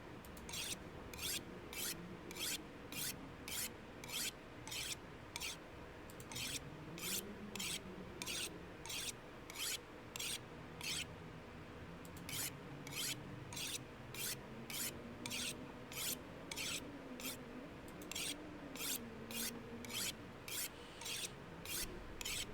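A blade is honed on a whetstone in The Long Dark, with steady rhythmic scraping strokes repeating evenly for about twenty seconds, fairly quiet over a low hum.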